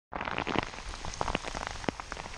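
Steady rain falls outdoors at a salmon fishing spot in New York, a dense, constant patter with sharper individual drops hitting nearby surfaces, close and loud, with no voices.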